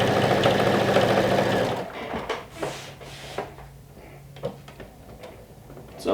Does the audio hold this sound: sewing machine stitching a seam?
yes